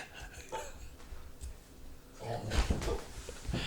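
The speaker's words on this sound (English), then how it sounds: "that's my dog." A dog growls and barks in short rough bursts, faint and somewhat distant, strongest near the end, with no speech over it.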